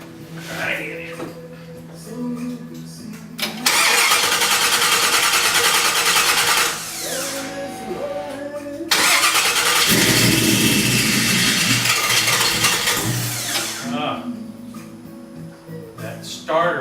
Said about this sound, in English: That starter is still going once it starts.